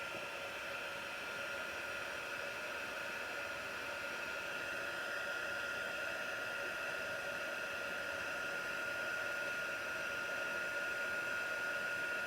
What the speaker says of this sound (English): I'm going to take my heat tool and cook it.